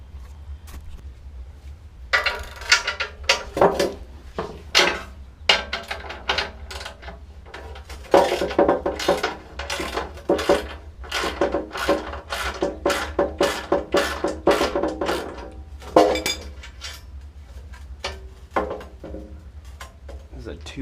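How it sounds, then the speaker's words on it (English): Irregular bursts of metallic clicking and ratcheting as bolts are undone on a Jeep Wrangler's two-position gas tank, close and fairly loud, in uneven clusters with short pauses. "Now I gotta undo all these bolts, take out the packing."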